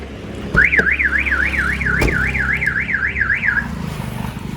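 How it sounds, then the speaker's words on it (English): Aftermarket remote central locking alarm on a 2005 Hyundai Santro Xing wails with a loud warbling siren, rising and falling about ten times over three seconds before cutting off, with a couple of sharp clicks and a low engine hum beneath. "if anyone opens the car with a key, the buzzer will go off"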